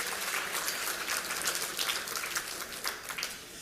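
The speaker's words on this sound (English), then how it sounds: "That deserves an applause, absolutely." Audience applause at a Salute to Black Women tribute event, a dense, even wash of clapping from many hands that holds steady throughout at moderate distance.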